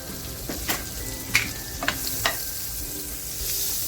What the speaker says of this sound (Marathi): बटर टाकते बघा बटर बरोबर थोडस तेल टाकते